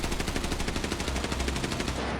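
Fully kitted M4 rifle in the Arena Breakout: Infinite video game firing a rapid automatic burst, dense evenly spaced shots for about two seconds, loud and close, cutting off at the end with no talking.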